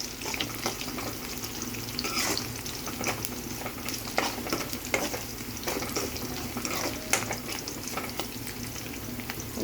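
An upma tempering frying in an iron pan, giving a steady, moderately quiet sizzle with occasional stirring scrapes, heard alone.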